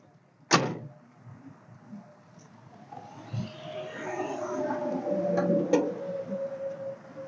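Hood of a 1986 Buick Electra Estate station wagon with an Olds 307 engine clunking open: one sharp latch pop near the start, then rustling handling and a few lighter metallic clicks, with no talk heard.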